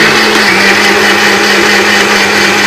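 A mixer grinder grinds vetiver root, running as one loud, continuous whirring drone with a steady motor hum that holds unchanged throughout.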